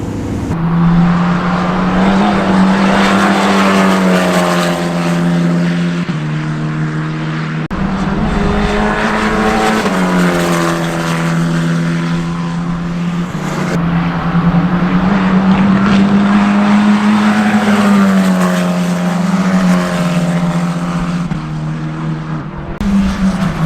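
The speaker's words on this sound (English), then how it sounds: "The little Ginetta juniors are coming out for their test session now." Ginetta Junior race cars drive past on the Oulton Park circuit, engines rising and falling in pitch through several loud passes and gear changes, with no talk.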